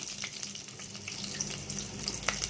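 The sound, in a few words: cumin seeds and garlic spluttering in hot oil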